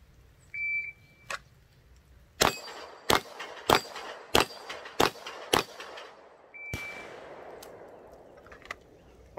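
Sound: pistol shots on Bianchi steel plate rack with shot timer

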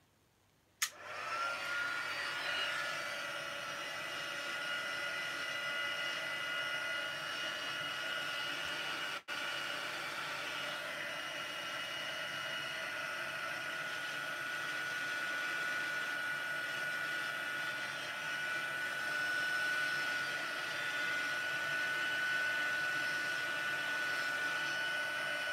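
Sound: heat tool blowing to dry paper flowers

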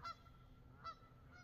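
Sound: geese honking

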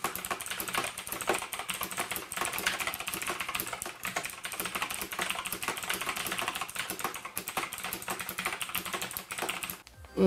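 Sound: typing on Sharkoon Skiller SGK3 mechanical keyboard with blue switches

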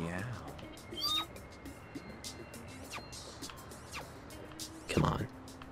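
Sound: cats meowing in No More Heroes video game

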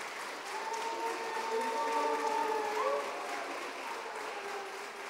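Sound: audience applause

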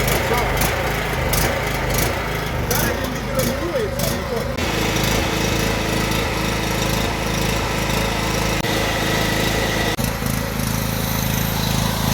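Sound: Stanley SG 3100 petrol generator running after starting

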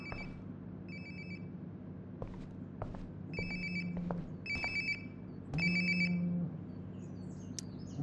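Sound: phone ringing in the video game Life is Strange Before the Storm

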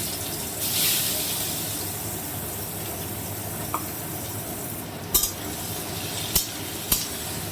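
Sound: chopped onions added to pan for mutton curry

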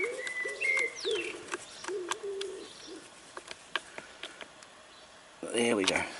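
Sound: pigeons cooing

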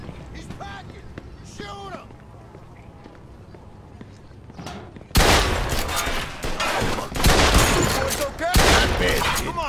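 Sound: gunfire in Mafia 2 video game shootout

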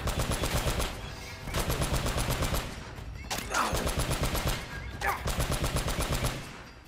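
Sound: gunfire in Uncharted: Drake's Fortune video game

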